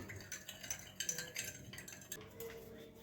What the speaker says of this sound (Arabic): هقلب السكر